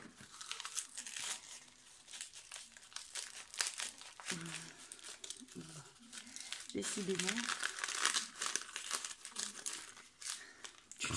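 Gift paper sealed with lots of tape being torn open, with repeated crinkling, crumpling and ripping close by, mixed with ongoing talk in French.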